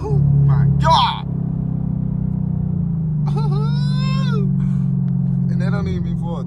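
A straight-piped Chevrolet Camaro SS V8 rumbles with a deep, steady, loud exhaust drone heard from inside the car, while people shout and talk excitedly over it.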